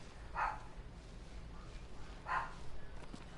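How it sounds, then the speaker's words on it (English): A dog barks twice, two short muffled barks about two seconds apart, heard at a distance over low background noise. "And now my dog's barking."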